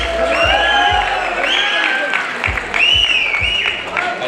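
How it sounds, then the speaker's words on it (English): Students applaud and cheer at the HKBK Degree College graduation day, with dense clapping, several whoops and whistles rising above it, and a few low thumps; the crowd noise is loud and steady throughout. "Can I hear a round of applause, students?"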